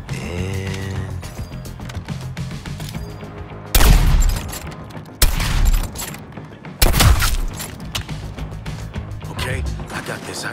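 Deadshot's guns fire in Suicide Squad: Kill the Justice League, three loud booming bursts cutting through a dense bed of game music and effects.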